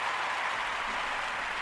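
Steady, dense applause from a crowd, continuous and fairly loud throughout with no talking over it.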